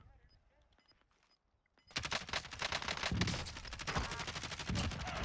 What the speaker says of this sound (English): They're shooting at the bottom.